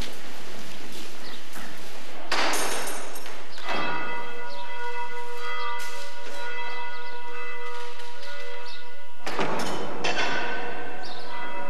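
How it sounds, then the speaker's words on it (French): Church bell at a Benedictine abbey rings out to call the monastic community to church, its strikes recurring with long ringing overtones that hang between peals, loud and resonant with no talking. "La cloche rassemble une dernière fois la communauté à l'église."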